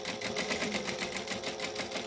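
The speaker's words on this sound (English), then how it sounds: "So I'm stitching all the sides." A sewing machine stitches along the sides of a bi-fold wallet with a fast, steady, rhythmic whir that runs unbroken throughout.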